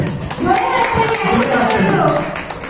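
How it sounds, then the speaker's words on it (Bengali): Applause for the youngest youth member at a group gathering: a steady patter of many hands clapping, mixed with overlapping voices of the crowd throughout. "ওর জন্য একটা হাততালি জোরে"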